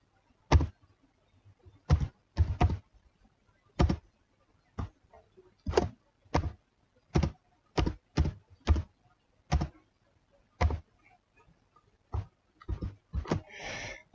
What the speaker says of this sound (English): So I'll just type in the password.